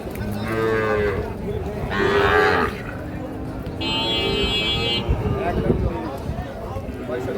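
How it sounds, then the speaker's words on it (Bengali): Young Sahiwal bull calves, about six to seven months old, at the Ambari cattle market. They give several loud, drawn-out moos in close succession over busy market background noise. "শাহিওয়াল ষাঁড় বাচ্চা দেখছি।"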